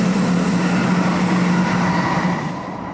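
Train rumbling steadily through a long Alpine rail tunnel on a car without shock absorbers, a loud, dense roar with a low steady hum that fades slightly at the end, heard from inside the carriage with no talk.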